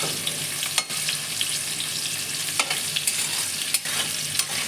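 Potato pieces fry in hot oil in a home kitchen pan, a steady close sizzle with a few sharp spatters and stirring clicks and no talk.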